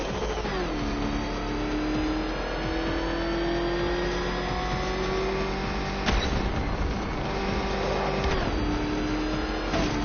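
In a Batman video game, a car engine drones with a steady high whine that climbs in pitch, briefly interrupted by two hard shifts or impacts before rising again, loud and unbroken throughout.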